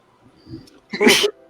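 A single sharp human sneeze close to the microphone, a brief breathy intake followed by one loud burst, with no talking during it.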